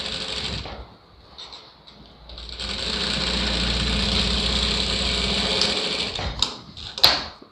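A sewing machine runs a seam of stitching into a blouse lining, starting after a short quiet pause, whirring steadily up close for several seconds before slowing and stopping with a few clicks.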